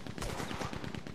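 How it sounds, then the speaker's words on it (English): Rapid Gatling gun fire in the Red Dead Redemption 2 video game, a dense, continuous burst of loud booming shots layered over a rumbling gunfight. "He's going for the Gatling. Look out, he's firing."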